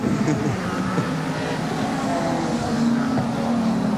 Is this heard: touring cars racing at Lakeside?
yes